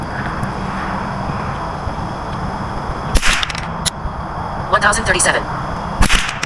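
A Ruger 10/22 rifle fires a few sharp, isolated cracks outdoors, spaced seconds apart over steady background noise, while someone speaks briefly between the shots.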